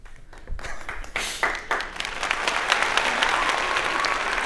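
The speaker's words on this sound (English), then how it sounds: "Let's give him a round of applause." A group applauds a trivia winner, starting with a few scattered claps that quickly swell into steady, dense clapping that holds to the end.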